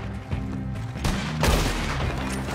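Gunfire in the Western game Red Dead Online: a loud, close volley of shots with booming reports and crackling echoes that overlap into a sustained fusillade.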